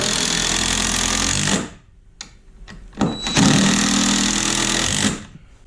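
A power driver drives screws through a 2x3 into wooden bunk bed framing inside a school bus conversion, giving two loud close whirring bursts separated by a quieter gap with small clicks.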